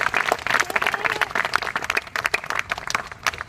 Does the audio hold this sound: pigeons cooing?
no